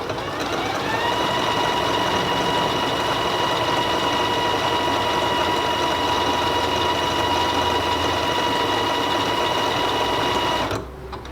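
A Janome Skyline S3 sewing machine stitches out a single word, its motor whirring in a steady, close, continuous hum for about ten seconds before cutting off abruptly, with no talking.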